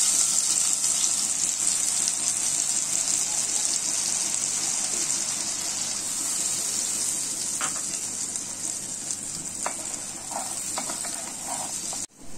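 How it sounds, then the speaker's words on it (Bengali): Water bubbling in a pot for Bengali mustard hilsa, a steady close hiss and roil mixed with turmeric and Kashmiri chilli paste, with a few light clinks near the end and no voices. "জলটা আমাদের ফুটে উঠেছে।"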